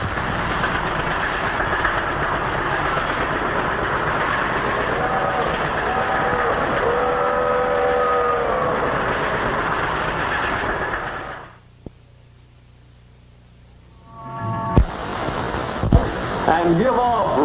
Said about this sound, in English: give off realistic choo-choo sounds